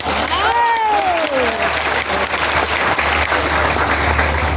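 Audience clapping steadily throughout at a speech event, a dense continuous patter with a few cheers and whistles rising over it early on.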